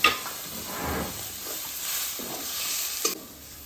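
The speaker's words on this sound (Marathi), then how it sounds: "आता ते मस्त तेल सुटेपर्यंत फ्राय करून घ्या।" Roasted coconut paste masala fries in oil over a wood-fired stove for a mutton curry, a steady close sizzle broken by rhythmic scraping stirs, with no talk.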